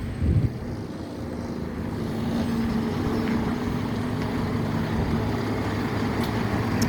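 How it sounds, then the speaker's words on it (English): Road traffic noise, a broad continuous rumble and roar of passing vehicles that swells slightly after the first couple of seconds and stays loud and close, no talking. "let me just pause this traffic"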